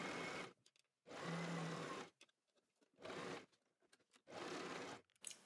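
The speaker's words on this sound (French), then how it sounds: "on va venir coudre jusqu'en remontant" A sewing machine stitches a sweatshirt seam in four separate runs, each lasting about a second with a steady fast whir, split by short quiet gaps that carry faint handling noises.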